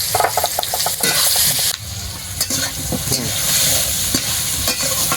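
Potatoes fried in a pan with turmeric, salt and slit green chilies sizzle steadily while a spoon stirs and scrapes, close and loud with a continuous hiss.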